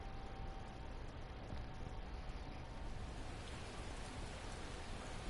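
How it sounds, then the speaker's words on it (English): Steady, even rain in the video game Final Fantasy XIV: Heavensward pours down continuously, a dense wash of falling drops with no voices or other sounds. "No, and now it's raining"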